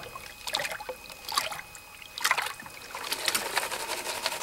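Water sloshes over rocks in a gold pan while panning material from a desert wash, with close, rhythmic swishing and trickling that swells and fades in repeated strokes.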